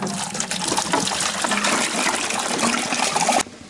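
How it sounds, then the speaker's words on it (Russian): Water pours from a jug into a vessel for a sugar-and-yeast home-brew mash, a loud, steady gushing splash that runs continuously for several seconds, then cuts off abruptly near the end. "Наливаем баклажку воды сюда."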